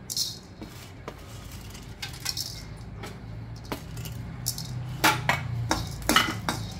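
Cloves dropped into a pan of dry-roasting spices with no oil, giving a series of sharp rattling clicks and light metallic clatter against the pan, growing denser toward the end over a low background hum.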